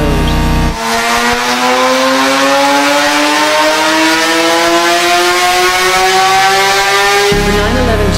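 A Porsche 911 GT3 RS race car engine revs up in one long, loud continuous climb, its pitch rising steadily over several seconds before cutting off abruptly, close and alone.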